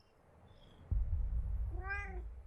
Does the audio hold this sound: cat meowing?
yes